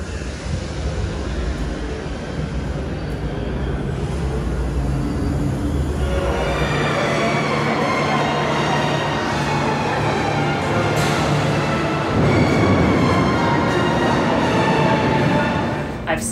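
Hogwarts Express train ride at Universal Studios Florida, a loud continuous rumble of the rail car in motion with rolling wheel noise and a brighter hiss that swells partway through, steady and close throughout.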